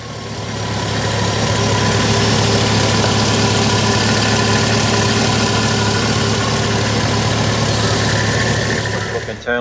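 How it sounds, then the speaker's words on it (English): A 6-litre LS2 V8 car engine idles with the bonnet up, a loud, steady low rumble with an even burble that holds for the whole stretch and cuts off abruptly at the end. "there's your LS2 6-litre V8."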